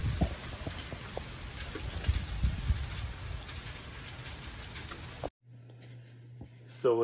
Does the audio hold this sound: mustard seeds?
no